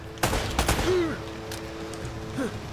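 Video game gunfire in Uncharted: Drake's Fortune, a quick cluster of sharp shots near the start followed by lighter pops and whooshing game effects, moderately loud with a faint voice in the background.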